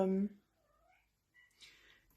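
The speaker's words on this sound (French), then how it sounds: "On entend le chat qui miaule, mais elle joue en fait." A cat meows while playing, a short loud mew followed by faint, drawn-out thin cries and quiet rustling.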